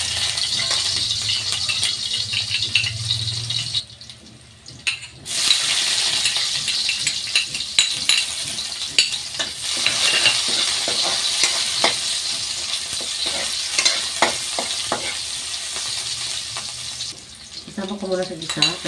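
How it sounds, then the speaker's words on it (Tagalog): Garlic, carrots, squid balls and other chopsuey vegetables sizzle steadily in a hot pan, with stirring scrapes and rattles throughout and a brief quieter gap midway. "igisa na natin yung sahog. Ang ating mga gulay."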